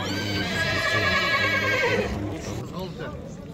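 A horse whinnies loudly and close at a livestock horse market in Nookat, the neigh rising and trailing off within a few seconds, followed by faint bustle.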